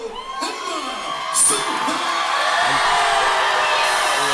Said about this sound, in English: listen to the roar of that crowd